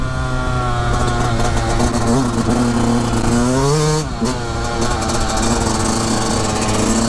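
A 2020 Yamaha YZ 125 motocross bike engine buzzes loud and near, revving up to a peak, then dropping back and climbing again in a sharp two-stroke whine, with no talk over it.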